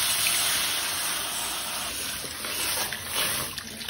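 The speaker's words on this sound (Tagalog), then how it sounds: "bigla po natin papatakan siya ng tubig dito sa ating gripo" Tap water pours steadily over a Chinese wok being washed at a kitchen faucet, a continuous broadband hiss and splash that stays loud and even throughout, with no voices.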